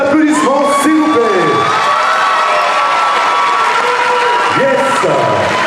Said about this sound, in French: On va les accueillir, s'il vous plaît, chargez un tonnerre d'applaudissements, s'il vous plaît.